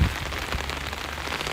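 Heavy rain pours steadily on surfaces nearby, a dense continuous hiss filling the whole moment.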